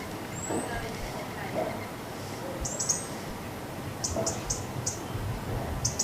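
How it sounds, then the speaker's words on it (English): Short, fast alarm calls from a bird come in repeated bursts, thin and high, clustered near the end, over a low background rumble with a voice speaking. "We hear short, fast, repeated alarm calls from another bird, which can signal a ground predator."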